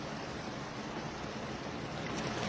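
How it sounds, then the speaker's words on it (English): A cup of water is poured into a simmering chicken mince curry, a steady splashing, hissing pour that is fairly faint and continuous throughout, without any talk. "adding a cup of water,"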